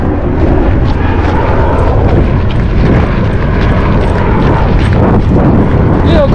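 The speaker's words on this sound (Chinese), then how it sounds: "好近嘅低飞直升机啊！" A low-flying helicopter passes close overhead a hiking trail in the hills between Tuen Mun and Tsuen Wan, Hong Kong, with a loud, continuous engine and rotor roar that fills the whole stretch.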